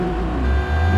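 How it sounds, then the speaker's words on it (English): A 2026 Honda Prelude, the new 200-horsepower model, cruising on a California highway, giving a steady low engine and road drone with a faint tonal whine and no talk. "Doing a little California highway run here."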